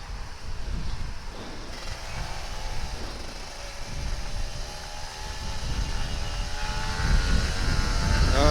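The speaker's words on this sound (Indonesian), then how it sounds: "Gue kangen sama suara knalpot Ninja RR2 tak." A Kawasaki Ninja RR 150 two-stroke motorcycle exhaust gives a steady engine drone with a rising, buzzing harmonic whine, continuous and fairly loud throughout, building slightly toward the end.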